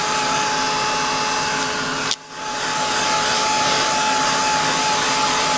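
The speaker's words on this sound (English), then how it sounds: "Take our heat tool dry it up." A heat tool drying faux leather album binding blows a loud, steady, close whoosh, briefly cutting out and then resuming.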